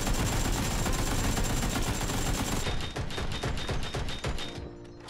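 Rapid automatic gunfire from a PUBG video game, a dense continuous burst of shots that keeps going for several seconds, loud and close with no talk.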